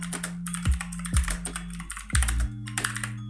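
Keys clatter on a computer keyboard as HTML span-tag code is typed, a few quick close clicks over a steady low electrical hum, no talking.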